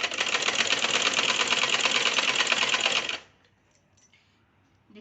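A sewing machine stitches a double katori blouse part in one loud, continuous close-up whir for about three seconds, then stops abruptly, leaving near silence with faint handling sounds.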